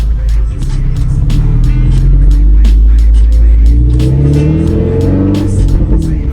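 Toyota MR2 Spyder with its muffler fallen off and a catless exhaust roars loud and raw from inside the car, a deep steady drone that climbs in pitch as the engine revs up in the second half.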